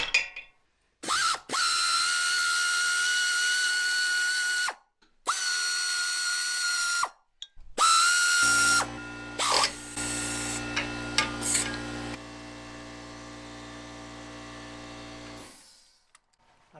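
Bolts being removed from an old tractor during a water pump replacement, with several loud, close bursts of a whirring power tool and ratcheting separated by short pauses, then a longer steadier mechanical hum that fades out.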